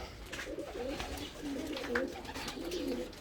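Soft, throaty cooing of Bulgarian Bango pigeons repeats in rounded low phrases, several birds close by in a coop, with a faint chirp or two in the background.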